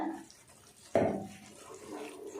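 Water pours suddenly into a pan with a splashy gush that settles into a steady trickle, close up, with faint background noise and no speech.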